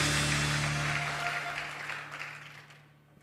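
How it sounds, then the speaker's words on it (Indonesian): A church congregation at a Christmas service gives a sustained round of applause for Jesus, a dense wash of clapping that gradually fades out. "Yang percaya berikan tepuk tangan yang meriah buat Tuhan Yesus"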